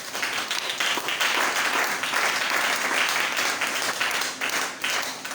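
A church congregation at a Bible seminar bursts into loud, sustained applause, with dense clapping from many hands filling the hall throughout.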